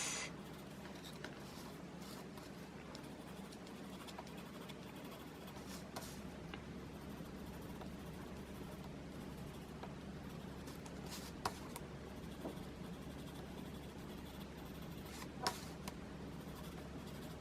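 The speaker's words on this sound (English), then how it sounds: "So just put a little bit of pencil in there." Pencil shading on paper, a soft continuous scratchy rubbing that runs steadily for the whole stretch, close and quiet, with a couple of faint taps.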